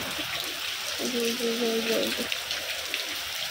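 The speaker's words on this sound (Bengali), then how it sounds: "আর কি সুন্দর বাতাস, বাতাসে এই বৃষ্টির মধ্যে বাতাস চলতে আছে না" Steady rain hisses continuously with a broad wash of wind noise, while a voice briefly speaks over it near the middle.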